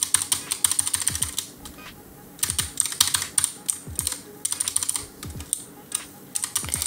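Clicky keyboard typing in bursts as a keypad code is entered in a video game map, quick clustered taps separated by short pauses, close and fairly quiet with no talking.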